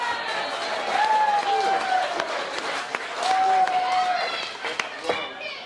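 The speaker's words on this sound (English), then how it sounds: "Everybody let's give a big round of applause to Annika." An audience applauds for a table busser at a Lake Life Hot Ones event, a dense roll of clapping from a crowd with talk and a long sustained tone running over it.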